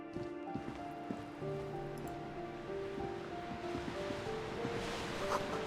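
Waves crash in darkness in the video game Disco Elysium, a soft, continuous wash of surf that swells and recedes beneath sustained musical tones, steady and fairly quiet throughout.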